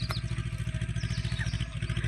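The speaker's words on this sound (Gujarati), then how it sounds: "એક ભાઈ ટ્રેક્ટર લઈને ખૂબ જ ફાસ્ટ આવે છે અને ધૂળની ડમરીઓ પણ ઉડે છે।" A tractor speeding along a dusty dirt track in open countryside, its engine thudding in a fast, steady pulsing rhythm close by, with no talk.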